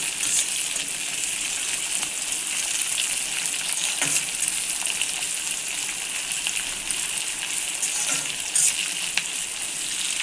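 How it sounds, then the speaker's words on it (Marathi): Carrots and bell pepper sauté for noodles in a pan, giving a steady, dense sizzle with a few scraping stir sounds; close and continuous, with no voices. "आता गाजर आणि शिमला मिरची आपण टाकले, परतून घेऊया छान."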